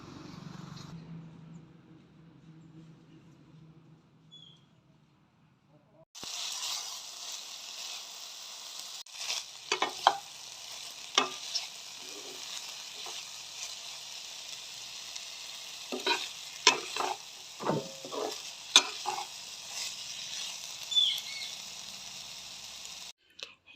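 Radish and potato pieces fry in a pan. After a quiet stretch with a low hum, a loud, steady sizzle starts suddenly. Sharp crackles and stirring scrapes cut through it, and no voices are heard.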